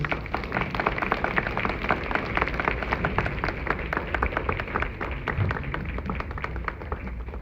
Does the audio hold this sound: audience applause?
yes